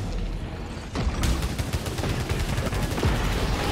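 Turrets firing in the game Returnal: a dense run of rapid, evenly spaced shots that starts after a moment's quieter rumble and carries on steadily, loud and close.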